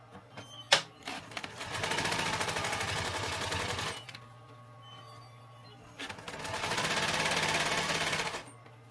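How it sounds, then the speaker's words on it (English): A sewing machine stitches backpack webbing in two long runs of rapid, steady mechanical chatter, separated by a pause with light handling clicks, close and fairly quiet. "you'll stitch your webbing just at the top side of your threading"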